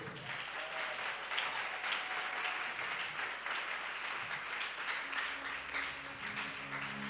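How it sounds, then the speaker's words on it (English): Church congregation clapping at a Sunday service, a steady continuous patter of many hands filling the room at moderate level, with faint voices underneath. "If you are clapping, you do well."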